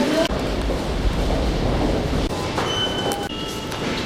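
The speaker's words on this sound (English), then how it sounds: "пригородный электропоезд с сообщением Керженец, Нижний Новгород, прибыл на 8-й путь" Suburban electric train at Nizhny Novgorod station rumbling and clattering as it arrives, with rail clicks, brief wheel squeals and hissing, fairly close and loud throughout.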